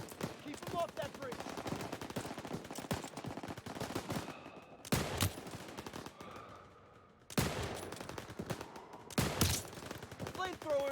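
Machine gun fire in Call of Duty WW2, a battle at a bridge over the Seine, rattles in dense continuous bursts with sharp louder volleys, mixed with explosions and distant game voices.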